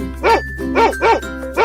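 A cartoon dog gives four short, bright barks in an even rhythm, loud and close, each a quick harmonic yelp over a steady musical backing.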